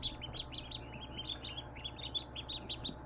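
Young ducks and chicks in a temporary brooding tub give continuous high, rapid peeping and chirping, close by and fairly soft over a low background hum.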